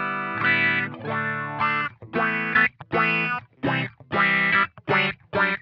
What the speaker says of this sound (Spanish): escuché el barrido como va con la resonancia al mínimo